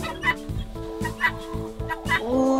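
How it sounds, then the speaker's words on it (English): Chickens clucking and squawking inside a coop, several birds close by making repeated rhythmic clucks over a steady backdrop of other sound and background music, with a rising call near the end. "We are now in the chicken coop. Hello, chickens!"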